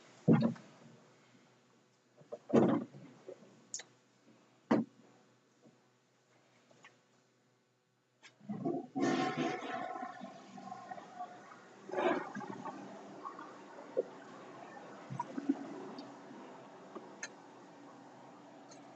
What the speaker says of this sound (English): Can you go flush the toilet in there?